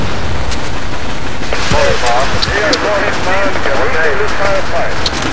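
Gunfire in the Battlefield video game with the AIX mod, rapid shots crackling continuously under excited talking voices, loud and dense throughout.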